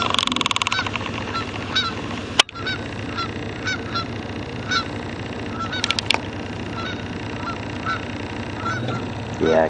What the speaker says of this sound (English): There's the geese that you're hearing.